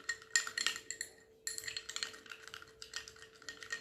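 A spoon stirs rice flour into curd in a bowl, giving quick scraping clinks against the side in uneven bursts, close and fairly quiet, with no voices.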